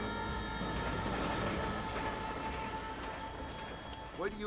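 A train pulls into the Armadillo station in the Red Dead Redemption video game, its wheels and carriages rumbling steadily at moderate distance, ending in a brief metallic squeal.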